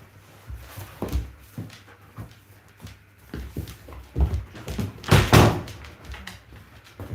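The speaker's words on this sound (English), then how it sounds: "I'm going to just shut this door" An indoor door is pushed shut in a home with dogs present. Several soft thuds and knocks are followed by a louder thunk, with shuffling and movement around it.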